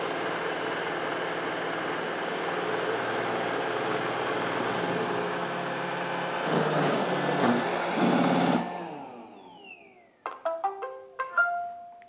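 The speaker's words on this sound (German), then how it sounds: "jetzt fährt er hier die Home-Station an" An iRobot Roomba J7+ robot vacuum drives back to its home station with a steady motor whir, swelling and clunking as it docks, then followed by a few short rising electronic chime tones.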